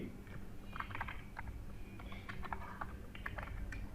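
Quiet, close computer keyboard typing while HTML code is entered, irregular bursts of soft key clicks over a low background hum, with no talking.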